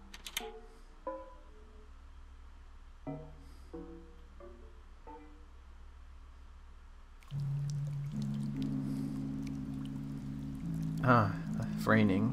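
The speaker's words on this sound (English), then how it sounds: "Raining, that's a first." Steady rain falls in the video game OMORI, a broad soft hiss that swells in around the middle and continues under gentle melodic game music and chimes, with no talking.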